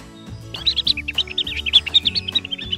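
Chicks chirping in a rapid, continuous run of high, bright peeps, close and clear with no talking.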